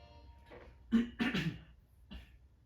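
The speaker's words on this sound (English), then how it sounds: "Sorry if I keep clearing my throat." A few short, rough throat-clearing bursts close to the listener, spaced out with brief pauses and no speech.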